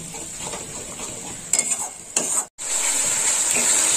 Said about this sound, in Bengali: দইটা দিয়ে ভালো করে কষে নেব।